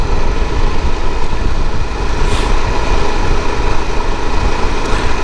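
An Aprilia Pegaso 650 motorcycle rides a country lane and drops down a gear, its engine a steady loud drone with wind rush that holds even across the shift, with no clear break in the noise.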